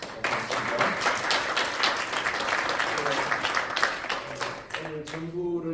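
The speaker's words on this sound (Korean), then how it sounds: "우리 박수 한번 부탁드립니다" An audience claps loudly at a seminar, with steady applause carrying through. Voices talk and call out over the clapping, growing clearer as the applause trails off at the end.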